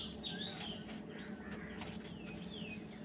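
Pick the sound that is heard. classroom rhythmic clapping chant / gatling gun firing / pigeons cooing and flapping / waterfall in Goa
pigeons cooing and flapping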